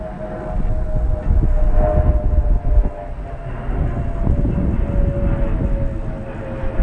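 A train passes close by with a continuous rumbling roll of wheels on rails, loud and sustained, carrying a faint tonal whine across the whole stretch.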